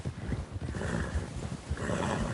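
A horse in Red Dead Redemption 2 neighs and snorts in a rough, throaty burst, close and fairly loud over a steady game-world background, with no talking.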